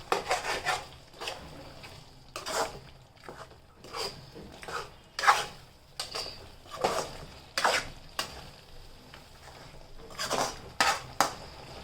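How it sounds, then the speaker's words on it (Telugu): A utensil scrapes and clatters against a pan as chicken with ginger is stirred, producing irregular bursts of metallic scraping and knocking, close and moderately loud. "అల్లం కూడా వేసేసిన మంచిగా కలుపుకుందాం."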